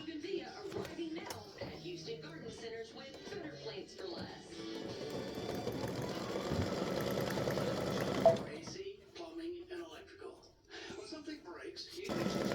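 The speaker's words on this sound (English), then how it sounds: "it goes over and it stitches the tabs, the placement line for the tabs" A sewing machine runs steadily, stitching placement lines for tabs on a Memorial Day triple display stand, its motor drone lasting most of the stretch before stopping, with a sharp knock near the end and quieter handling afterward.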